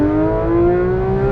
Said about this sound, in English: I'm in love with an exhaust, and I'm not afraid to say it.